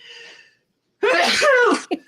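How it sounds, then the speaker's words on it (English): A single loud, close human sneeze after a faint breathy lead-in and a brief pause, ending with a short sniff-like burst. "I'm gonna sneeze."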